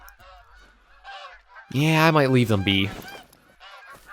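Geese honk in theHunter: Call of the Wild, a loud burst of several overlapping nasal calls in the middle, with fainter honks before and after, while someone talks quietly over them.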